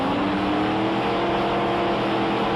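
A Castrol funny car drag racing at Willowbank Raceway during the 1993 Winternationals, engine roaring loud and continuous with a slowly shifting pitch throughout.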